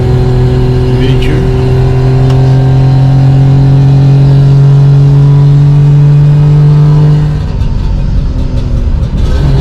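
A Wartburg car on the Monte Carlo Historique rally, its engine droning loud and close as it holds a high, steady pitch, then easing off into rougher, lower running near the end.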